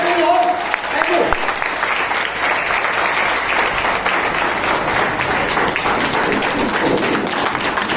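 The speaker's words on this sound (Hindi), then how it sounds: "क्लैपिंग चाहिए, क्लैपिंग चाहिए, जितनी जबरदस्त हो सकती" A seminar audience breaks into loud, vigorous clapping close by, the dense applause sustained throughout with a voice talking over the start.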